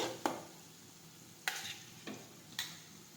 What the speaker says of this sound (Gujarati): હવે આ રીતે સાતળી દઈશું.